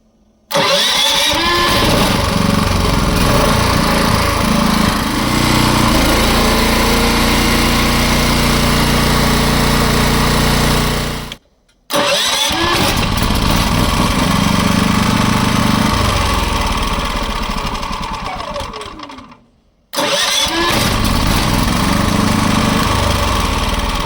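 A Champion CPG4000DHY-DF-EU 3.6 kW dual-fuel inverter generator, petrol/gas, started cold in winter and running loud and steady as a close droning engine, cutting out twice briefly before each restart.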